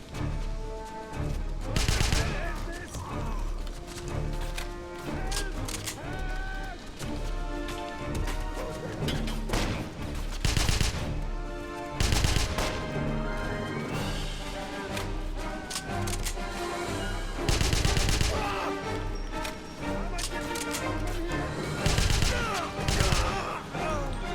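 Gunfire in Wolfenstein (2009): repeated sharp shots and bursts crack out loudly in clusters over a constant musical and ambient bed, with impacts between them.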